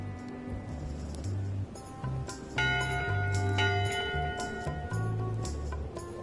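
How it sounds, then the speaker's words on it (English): A ship's bell rings aboard a pirate ship in the Monkey Island video game, clear metallic strikes with long ringing tones over a low, rhythmic music bed. "Top deck schedule. 1 bell, crew voting. 2 bells, LeChuck shouting."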